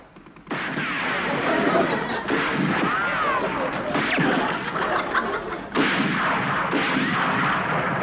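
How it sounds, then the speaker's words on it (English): Soldiers open fire together in a comedy sketch, a dense, loud burst of gunfire that rolls on for several seconds with a short pause in the middle, chuckling voices faintly mixed in. "Okay, open fire!"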